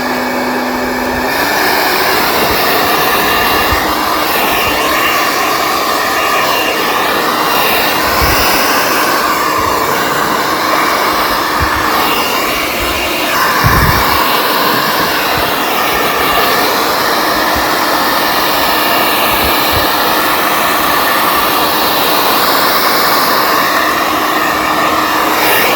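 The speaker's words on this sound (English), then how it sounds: "Okay, took the hair dryer to it." A hair dryer blows loudly and continuously up close, a steady roaring whoosh with a high whine, broken only by a few faint bumps.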